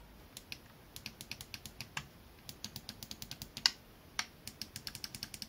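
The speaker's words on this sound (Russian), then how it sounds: "Кнопки справа и правда имеют механический щелчок," Mechanical face buttons on a MOBAPAD Huben M9-HD gamepad click sharply and crisply, a quick series of close, fairly quiet presses at an uneven rhythm, with no talk.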